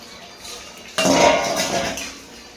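Lid lifted off a pot of chicken curry cooking in ground spice paste, a sudden metallic clank and scrape of cookware up close, fading into a soft ringing and quiet kitchen noise.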